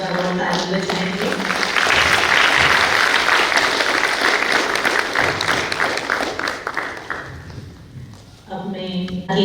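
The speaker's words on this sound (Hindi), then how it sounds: "बहुत धन्यवाद बच्चों का, बहुत ताली बजाएंगे।" An indoor audience applauds children after a performance, a dense burst of clapping that swells and holds for several seconds, then thins out, with speech over its start and end.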